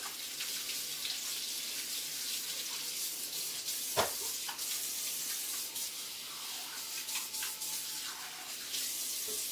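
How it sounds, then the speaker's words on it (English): Running tap water pours steadily into a kitchen sink as hands are washed, a continuous splashing hiss with a brief sharper splash partway through and no talk. "let me wash my hands"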